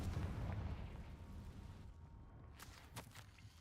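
A Confringo explosive spell blast in Hogwarts Legacy booms low and rumbling, then fades into a faint tail with a few sharp crackles and pops afterward.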